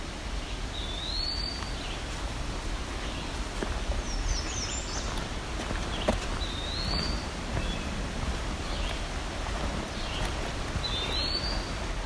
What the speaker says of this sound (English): You can hear the vireo in the background.